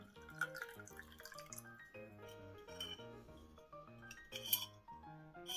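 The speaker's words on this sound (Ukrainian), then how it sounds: "обережно зливаємо воду у склянку, але не всю, бо ж на дні є пісочок" Water left from soaked forest mushrooms trickles into a glass in a kitchen, giving soft drips and light glassy clinks with ringing tones, faint and close.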